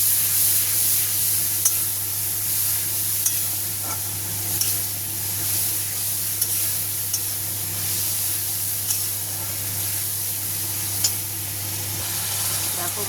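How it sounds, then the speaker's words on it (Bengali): A spice paste cooked down in a pan with a splash of water gives a steady, even sizzle and hiss with a low hum underneath and occasional faint clicks, continuous throughout and without speech. "জলটা দিয়ে মশলাটাকে এবার কষিয়ে দেবো।"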